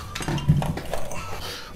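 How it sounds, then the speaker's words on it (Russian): Sauce whisked in a bowl for a burger: a brief burst of quick clinking and scraping against the bowl, close and fairly loud, with no talk. "Пока Константин взбивает соус"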